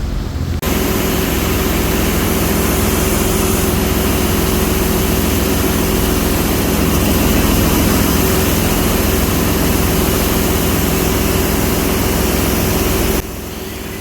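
A passenger launch engine running in its engine room makes a loud, steady heavy drone with constant mechanical hum, close and continuous until it drops slightly near the end.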